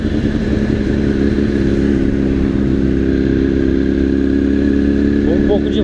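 Small 50cc motorbike ridden by an elderly woman on a town street in Echizen, Fukui, Japan, giving a steady mid-pitched engine drone heard from a moving vehicle, loud and continuous throughout.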